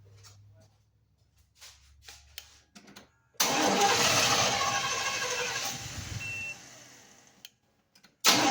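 A classic truck engine cranking and firing up powered only by a small Auxito jump box with the battery unhooked, a few quiet clicks first, then a sudden loud start settling into a steady running idle before cutting off, with another brief burst at the end.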